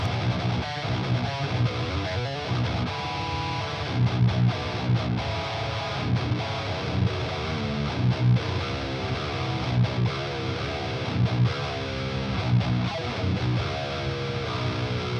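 Heavy electric guitar played through the Aurora DSP Rhino amp plugin on its Tracking preset, a dense, distorted, tightly palm-muted riff that is loud and continuous throughout, with no voices.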